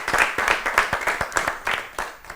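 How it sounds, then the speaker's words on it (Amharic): Children in an Ethiopian kids' TV quiz show clap together after a correct answer, a steady patter of many hands with sharp repeated bursts, close and fairly loud throughout. "አጨብጭቡላት በደንብ አድርጋችሁ"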